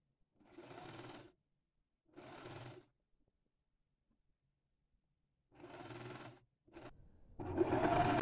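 A sewing machine stitches fabric for a round decorative pillow in three separate bursts of steady mechanical whirring, close and fairly quiet, followed by a short buzz and a louder rustling rush at the end.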